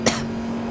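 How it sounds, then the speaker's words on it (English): A single short cough, close and sharp, breaking through a steady background hum, then quiet. "Excuse the coughing there"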